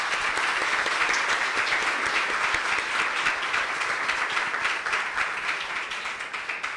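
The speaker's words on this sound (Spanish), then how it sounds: "Un aplauso para ellos." A congregation applauds inside a parish church, steady dense clapping that carries on evenly and tapers slightly toward the end.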